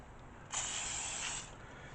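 Canola oil sprayed lightly from a can over a vegan, gluten-free sauerkraut strudel: one steady, close hiss lasting about a second, with no voices.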